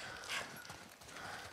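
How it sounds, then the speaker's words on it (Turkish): A horse in The Last of Us Part I clops its hooves in a few uneven steps at moderate distance, with a brief whinny among them and no speech. "Atı buraya getir."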